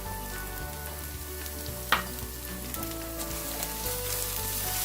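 Chili powder and turmeric fry in ghee for Hyderabadi-style chicken biryani with a close, steady sizzle and one sharp clink of a utensil partway through.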